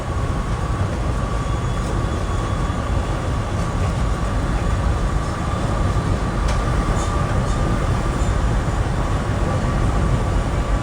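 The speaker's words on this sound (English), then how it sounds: "here's Amtrak Train 86 en route from Richmond," Amtrak Train 86, running from Richmond, Virginia to Boston, roars past close by as a steady, loud broadband rumble with rail noise, heard from a SEPTA Silverliner 5 cab on the Trenton to Philadelphia line.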